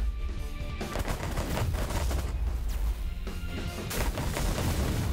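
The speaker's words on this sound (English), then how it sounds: "Those orange missiles hurt like a son of a..." Missile fire striking a ship in the space strategy game The Last Federation, dense rapid bursts of explosive impacts and rattling fire with heavy low booms, loud and continuous with brief dips.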